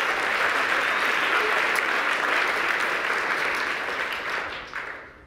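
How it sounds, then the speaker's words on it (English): An audience applauds at a tech conference, a dense, steady wash of clapping that holds for several seconds and then tapers away toward the end. "let's give them a round of applause"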